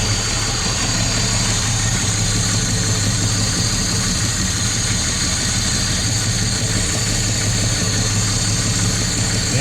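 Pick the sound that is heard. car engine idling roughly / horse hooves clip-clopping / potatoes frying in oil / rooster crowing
car engine idling roughly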